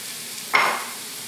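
Onions, mushroom and garlic tip into hot olive oil with a single short burst of sizzle that flares and fades within a few tenths of a second, then a faint hiss remains.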